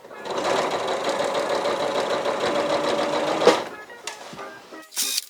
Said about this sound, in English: we're going to sew right on this edge here